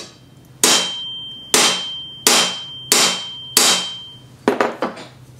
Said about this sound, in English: we're just going to whack it with the hammer